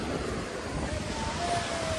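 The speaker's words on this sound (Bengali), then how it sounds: "এই দেখো জোয়ার আসতে শুরু করেছে" Sea waves wash in at Digha beach as the tide starts to rise, a steady, low surf rumble mixed with wind buffeting the microphone, with a faint distant engine-like drone toward the end.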